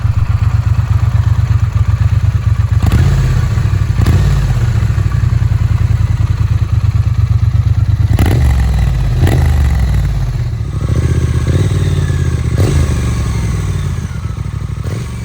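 A Triumph motorcycle engine fires up and settles into a loud, lumpy idle, with a few sharp blips of the throttle and some mechanical clatter.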